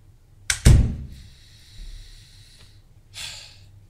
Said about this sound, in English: don't forget to close the door on your way out.